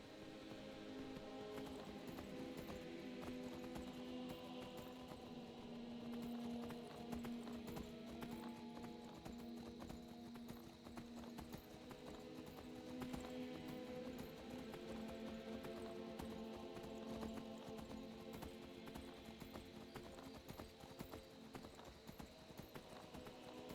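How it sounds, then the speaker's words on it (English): Hooves clip-clop in a steady rhythmic gait as a horse is ridden in a video game, faint and continuous throughout. "Now I'll ride the horse."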